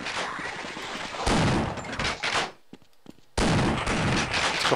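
Bursts of automatic gunfire in the Half-Life: Decay video game, loud and dense, with a short pause of scattered lighter shots before a heavy volley resumes.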